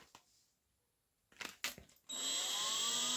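A Grosser GBW 250 leaf blower is switched on at its lowest speed. A few quiet clicks and handling knocks come first, then the motor starts abruptly into a steady whirring blow with a rising whine.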